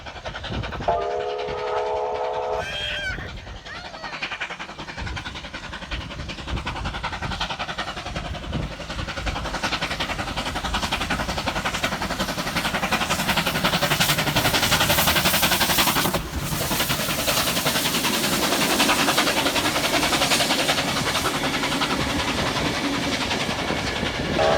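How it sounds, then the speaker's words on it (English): Steam locomotive 3801 hauling a train through the Hunter Valley toward Branxton, a short whistle blast at the start followed by a steady, rising rumble and clatter of carriages passing close by. "3801 is seen passing through heading towards Branxton in beautiful autumn sunshine"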